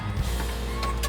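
A custom-built car's capsule-style canopy closing, heard as a steady electric motor whine with a low mechanical hum, fairly loud and close, ending with a couple of faint clicks as it seats.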